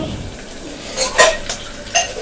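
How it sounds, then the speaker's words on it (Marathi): Dishes and pots being scrubbed and washed at home, with a few soft clinks and scraping rubs of metal against metal, brief and fairly close, with no talking. "मॅडम आमच्या भांडी घासतायत इकडे."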